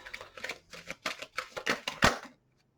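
A rapid riffle of tarot cards being shuffled, a series of crisp bursts building to a louder final snap, then quiet.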